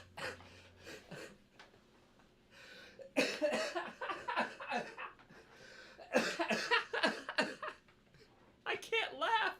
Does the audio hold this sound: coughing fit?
yes